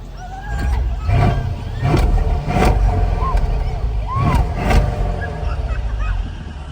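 A stock 2015 Mercedes S550 with all factory mufflers and no exhaust changes rumbles at low pitch, with several short engine swells at a steady pace, close by and without speech.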